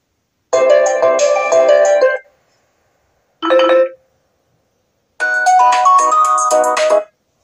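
A melodic electronic ringtone plays loudly from a Blackview Active 8 Pro tablet in three bursts: a two-second phrase, a brief snippet, then a longer repeat, with silence between them.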